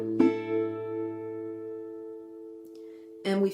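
A short E phrase picked on acoustic guitar using the open first, second and sixth strings, a single plucked attack ringing out with sustained harmonics, then a fresh strum near the end.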